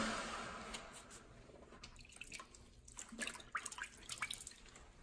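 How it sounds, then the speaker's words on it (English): Water trickles and drips from a bucket poured over a hot Volvo Penta raw water pump part during a rebuild, with irregular close splashes and drips that grow busier toward the end, no talking. "I have a bucket of water here. We're just gonna cool it down"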